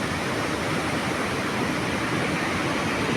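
Sea waves wash onto Karwar beach and cut into the sandy shore, making a loud, continuous broadband roar that stays steady throughout, with no voices.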